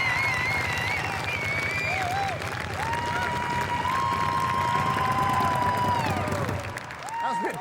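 Crowd at a Wall of Death event in Lincolnshire cheers and applauds loudly and continuously, with shouts and whistles over a dense roar of clapping that thins near the end.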